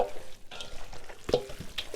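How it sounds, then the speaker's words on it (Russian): Raw chicken portions are stirred thoroughly in a large bowl, giving a soft, wet, continuous churning with occasional squelches and clacks, close by and without talk. "и вот так вот тщательно все перемешаю"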